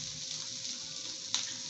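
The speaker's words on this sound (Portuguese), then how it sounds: "Já tá fritando, tá vendo? Na chapa." Yakisoba noodles frying on a hot griddle, giving a steady close sizzle with one brief louder spatter near the end.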